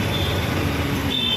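Steady Mumbai road traffic from a Hornet 160 motorcycle ride, a dense continuous rumble of trucks, cars and buses close by with a brief high beep near the end, no talking.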